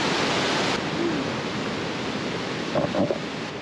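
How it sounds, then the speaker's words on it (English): A river flows below a hillside campsite along the Peak to Peak Highway, giving a broad, constant rush that stays loud throughout, with a few faint handling noises near the end. "we can hear the river down below"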